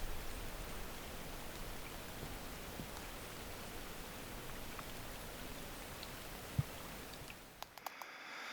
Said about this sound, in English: there was going to be a little bit of rain in the afternoon. I had a little bit now